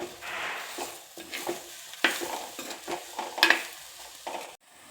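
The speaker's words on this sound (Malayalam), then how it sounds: "ഈ കരിയാപ്പിലും കൂടെ ഒന്ന് ചേർത്ത് കൊടുക്കണം." A spoon scrapes and stirs fish masala with curry leaves in a sizzling pan, making rhythmic scraping strokes and metallic clinks over a soft, steady fry before the sound cuts off abruptly.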